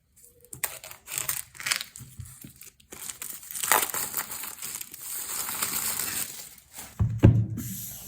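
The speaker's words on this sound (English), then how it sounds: "Let's get this box open" Cardboard and plastic packaging of an Apple Smart Keyboard Folio crinkling and tearing as the box is opened, a run of close, irregular rustles and rips with short pauses, no talking.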